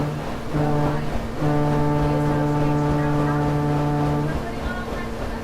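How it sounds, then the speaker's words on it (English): A ship's big main whistle, a deep foghorn blast, sounds loud and steady, sustained for several seconds with a brief break near the start, over water and boat ambience. "That was the ship's whistle."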